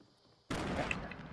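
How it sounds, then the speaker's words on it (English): A loud, close blast erupts suddenly in a 50-versus-50 video game battle, followed by a sustained roar of gunfire-like crackle and rumble. "That explosion is really close to us."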